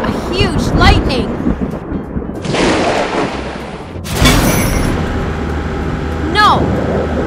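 In an animated story about trucks and a crane by a river, a sudden loud thunder crack follows a lightning strike midway through, with excited voices and background music around it.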